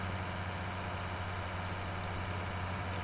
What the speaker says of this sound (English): But it's a really good tractor